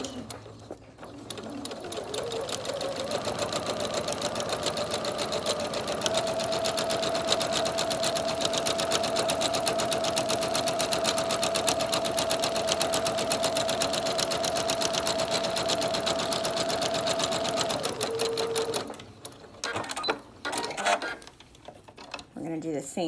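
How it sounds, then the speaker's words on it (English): A sewing machine stitches steadily along the long fabric edge of a 3-D singer's face mask, a loud, even, rapid mechanical whir that runs for most of the stretch before stopping and leaving handling noise. "we're going to go ahead and get this on our machine, and we're going to sew along this long edge"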